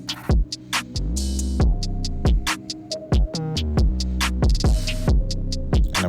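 Electric hair clippers with a 1 blade buzz with a low, steady hum while cutting a skin fade, punctuated by rhythmic clicks and brief taps as the blade moves across the head.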